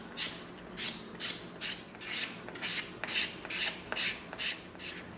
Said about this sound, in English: now our 220 sanding stick just to knock it down even more